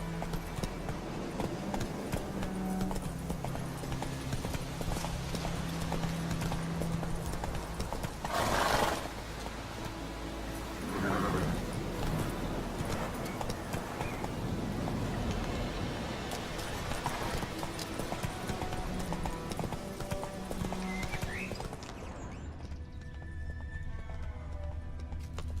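Horse hooves clip-clop in a steady galloping rhythm with occasional whinnies, set against a busy backdrop of game music and ambience in The Witcher 3 video game.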